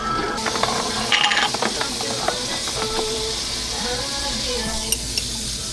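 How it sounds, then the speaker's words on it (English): Garlic sizzles and hisses steadily in a hot pan, close and loud, with light stirring clatter and scraping throughout. "And we're also gonna add some garlic to the pan as well."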